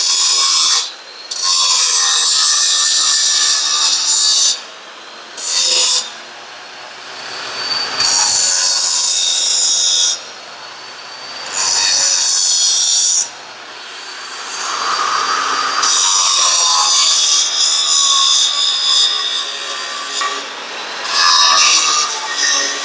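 A blade from a Rhino 15-ft Flex Wing rotary cutter is being sharpened in loud, harsh bursts of grinding. Roughly seven separate passes are split by short pauses, with no talking.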